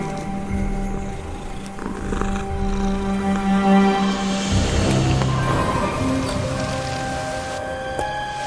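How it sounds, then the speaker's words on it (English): A cat meows and purrs in a PC adventure game, the calls set over a steady patter of rain and ambient game sounds, close and moderately loud for the whole stretch. "Here, kitty, kitty."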